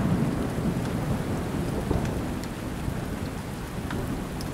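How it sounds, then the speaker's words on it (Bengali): A heavy thunderstorm on a stormy night: dense, steady rain hisses on surfaces while low thunder rumbles underneath, continuous and fairly loud with no voices. "বৃষ্টির কোনো বিরাম নেই।"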